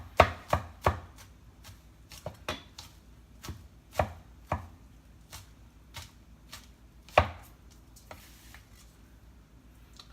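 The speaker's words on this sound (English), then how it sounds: "So chop the garlic. Just rough chop it." A knife rough-chops garlic on a cutting board: sharp, uneven chops, some in quick clusters and others spaced out, close and clear against a quiet background.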